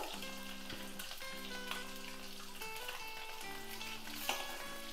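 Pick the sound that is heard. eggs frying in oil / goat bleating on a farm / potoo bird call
eggs frying in oil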